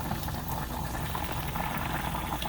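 White rice boiling in a pot, a dense continuous bubbling and churning of water heard up close and steady throughout, with no talking.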